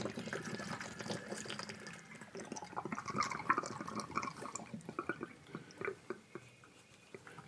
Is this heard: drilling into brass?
no